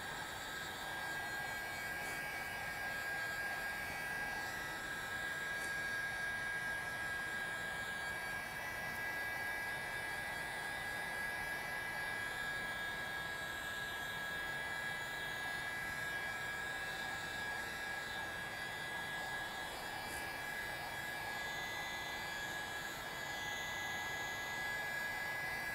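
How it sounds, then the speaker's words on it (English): A heat pen, a small heat gun, blows steadily to dry acrylic paint, giving a continuous close airy hiss and whine that holds unchanged throughout with no pauses. "we're going to take the heat pen and we're going to just dry this off a little bit"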